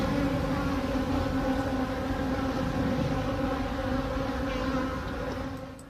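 A dense swarm of drone honeybees mobbing a queen bee buzzes loudly and continuously, a thick layered drone that holds steady and then thins slightly toward the end, with no voices over it.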